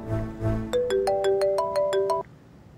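A mobile ringtone plays a bright, rising melodic phrase of about eight quick beeping notes, loud and close, after a moment of faint background murmur, then cuts off.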